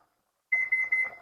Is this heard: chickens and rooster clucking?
no